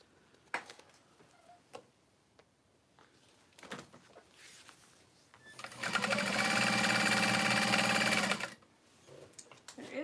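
A home sewing machine runs in a steady, loud mechanical burst of roughly three seconds with a rapid, even chatter, framed by quieter handling clicks and taps before and after.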